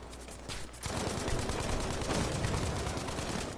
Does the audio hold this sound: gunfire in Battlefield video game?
yes